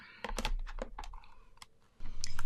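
Cutting a paper card panel for a handmade greeting card, a close series of sharp clicking snips and taps, several quick bursts followed by a short pause and then a louder rustle at the end.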